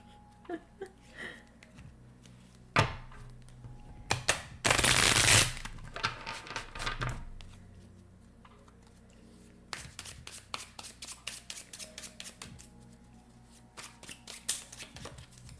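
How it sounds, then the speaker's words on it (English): Playing cards being shuffled by hand during a solo tabletop card game session, with several bursts of riffling and a long loud cascade in the middle, followed by rapid repeated flicks and patter near the microphone, no talk. "I'm going to try to shuffle them up a little bit better."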